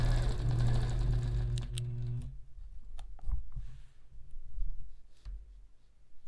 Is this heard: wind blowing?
no